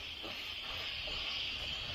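A high-volume pressure washer sprays water while soft washing a restaurant exterior, a continuous, fairly loud hiss with a low rumble underneath and no pauses.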